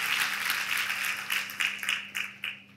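An audience at a satsang breaks into applause, a ragged burst of clapping that thins out into a few separate sharp claps near the end.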